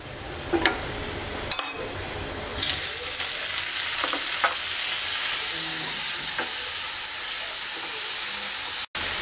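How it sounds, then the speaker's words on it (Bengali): Chopped tomato hits a pan of fried onions, bringing a few clinks and a burst of noise, then a continuous close sizzle and frying hiss with light stirring throughout. "এবার টমেটো কুচি দিয়ে দিচ্ছি।"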